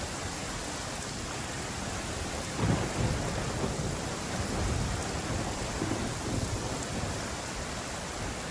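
Thunder from a lightning strike in the Genshin Impact video game, a low rumbling roll that swells under a steady wash of rain-like noise and lingers throughout, no speech.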